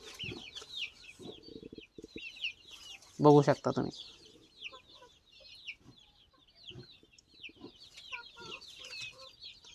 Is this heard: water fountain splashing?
no